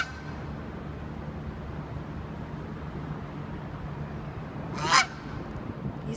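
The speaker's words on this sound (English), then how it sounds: "it's a goose that's making all that noise" A single loud goose honk rings out over a steady outdoor hiss at Granville Island, followed by a faint second call.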